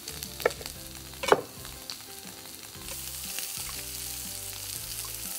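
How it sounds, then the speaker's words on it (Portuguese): Pork secretos sear and caramelize in a pan, a steady sizzle building after a couple of sharp utensil knocks early on, with faint background music underneath and no voices. "Viramos do outro e deixamos que a carne continue a tostar."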